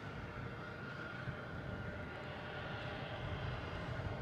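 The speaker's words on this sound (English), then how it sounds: "We got Aer Lingus passing in review here." Aer Lingus airliner passing by at Boston Logan airport, a steady, fairly distant jet roar that stays even for the few seconds, with no voices.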